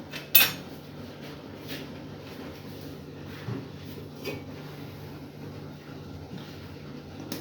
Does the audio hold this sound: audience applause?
no